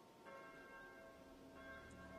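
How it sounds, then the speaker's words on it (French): A church bell ringing the Angelus, faint and distant, with sustained tones humming under the quiet background. "c'est simplement la cloche d'une église qui sonne l'Angélus"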